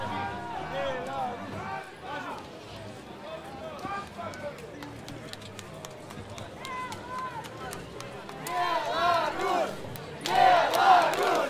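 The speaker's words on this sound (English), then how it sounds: "And the fans are starting to cheer for Belarus again in a fight" Fans cheer for the Belarus team during a 5-on-5 final bout at the Battle of the Nations 2014 medieval combat tournament in Trogir, Croatia: a dense, continuous crowd roar that swells louder toward the end, with shouting voices mixed in.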